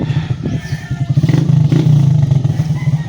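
A Rusi motorcycle engine with a faulty motor sputters and turns over unevenly, close and loud, in a rough rhythmic chug that fails to settle into a steady idle.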